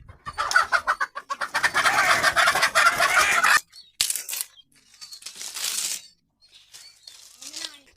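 Country chickens in an Indian village cluck and squawk loudly up close, a dense flurry of fowl calls at first, then sparser clucks and cries trailing off.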